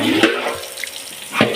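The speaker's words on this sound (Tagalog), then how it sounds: "Maglagay lang tayo ng tubig." Water pours from a tap into a container, a close, steady splashing stream with a couple of brief louder gushes, heard alone without talk.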